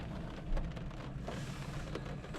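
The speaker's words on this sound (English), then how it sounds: "it is raining." Rain falling on a parked car, heard from inside as a dense, steady patter on the roof and glass with a few louder drops standing out, close and continuous, no voices.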